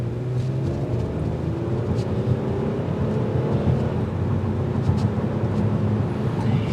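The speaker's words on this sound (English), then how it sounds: "the only thing that I like so much about the TRD is that exhaust note, because listen to this" A 2024 Toyota Camry XSE V6's exhaust drones with a deep, steady rumble throughout at a constant, moderately loud level, with no voices.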